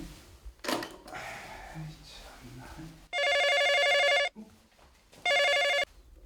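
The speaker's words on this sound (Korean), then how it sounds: "전화가 온것 같아" An old-style telephone bell rings in two bursts, each about a second long, with quiet talking and shuffling between and before the rings.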